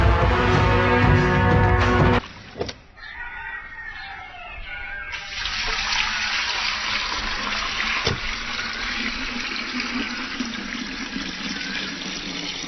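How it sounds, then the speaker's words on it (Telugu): Water pours in a steady, rushing stream that carries on without a break after a brief burst of other noise at the start; no one speaks. "అమ్మా, కొంచెం నీళ్లు పోయమ్మా."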